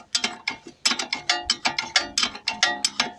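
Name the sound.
unfastening bolts while fitting a CV joint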